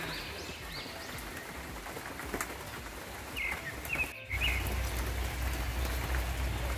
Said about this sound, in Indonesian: Tuh hujannya.